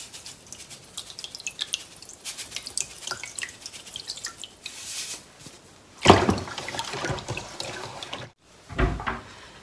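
Tap water runs into a bowl of sliced apples being prepared for pickling, with soft drips and trickles followed by louder splashing bursts near the end.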